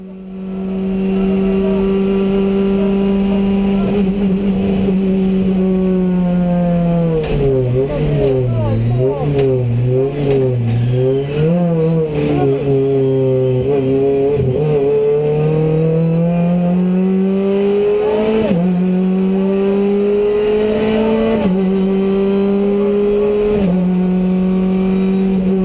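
A race car on a circuit back straight accelerates hard, its engine note climbing and dropping sharply at each upshift through the gears. The roar is loud and continuous and heard from inside the car.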